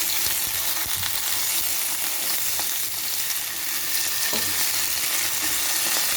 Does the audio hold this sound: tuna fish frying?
yes